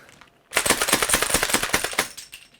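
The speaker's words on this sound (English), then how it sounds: "let us check out the slam fire though." An XYL M870 shell-ejecting Nerf blaster is slam-fired, letting out a fast, loud run of about a dozen sharp plastic clacks and shots close by after a brief near-silence.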